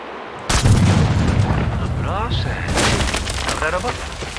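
Sniper rifle firing explosive rounds in the video game Sniper Ghost Warrior 3: a sharp loud blast followed by a rolling, crackling explosion that fills the rest of the moment, with talk over it.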